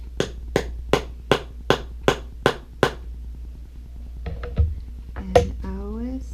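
Seven sharp, evenly spaced hammer whacks setting a metal snap into a leather saddle bag, loud and close, followed by light handling clatter and a brief voice at the end.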